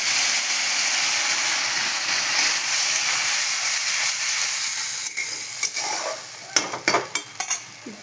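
Spice paste sizzles and hisses steadily in hot oil with onions fried red-brown, for chicken and egg kosha, then sharper spatters and stirring scrapes burst out near the end; no one speaks.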